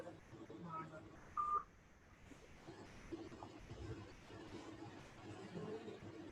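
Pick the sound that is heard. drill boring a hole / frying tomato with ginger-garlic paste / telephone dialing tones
telephone dialing tones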